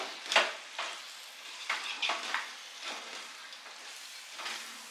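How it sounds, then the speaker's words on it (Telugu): Mutton pieces stirred into a spiced chilli masala gravy for seeraga samba biriyani, giving a quiet sizzle broken by repeated spoon scrapes and wet stirring strokes at an unhurried pace, close up. "మాంసము ఈ గ్రేవీలోకి బాగా మిక్స్ అయ్యేలాగా ఈ మసాలాలు, మనం వేసిన కారము ఇవంతా బాగా మిక్స్ అవ్వాలి"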